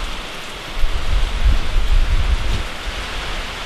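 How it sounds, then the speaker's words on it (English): Heavy hurricane rain pours down in a dense, hissing roar, with gusting wind swelling the low rumble, loud and close with no voices. "High winds, high rain."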